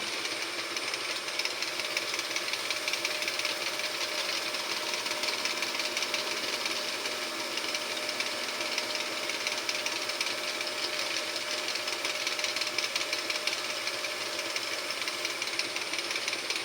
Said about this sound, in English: Develop the experience to know how hard to rub, how hot it should get, and then move on.